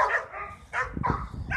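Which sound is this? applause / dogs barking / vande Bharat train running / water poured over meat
dogs barking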